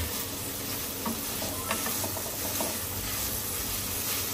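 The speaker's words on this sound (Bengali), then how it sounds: "এখন এটার মধ্যে চলে যাচ্ছে পেঁয়াজের বড় ফালিগুলা" Large onion slices sizzle steadily in a little oil in a pan while fried rice and chilli chicken are being cooked, a continuous close hiss with faint stirring scrapes and no voices.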